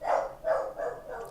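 A pet dog barks in a few quick, close bursts indoors, each short yelp following closely on the last with no talking in between.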